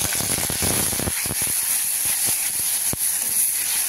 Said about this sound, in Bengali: আমি মশলাটা আগে দিয়ে দিচ্ছি